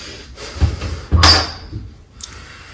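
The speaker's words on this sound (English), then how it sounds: "there's a loud bang, and the room door suddenly opens." A room door opens right after a loud bang: a heavy thud, then a sharp clattering impact and a creaking swing that fades into a quiet room.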